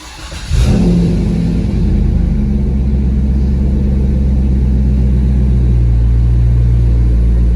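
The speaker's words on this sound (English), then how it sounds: "So I'm gonna put my foot on the brake and start the car." A Chevrolet Corvette C6 V8 starts up after a brief silence, with a quick cranking burst catching into a loud, deep rumbling idle that stays steady and close for the remaining seven seconds.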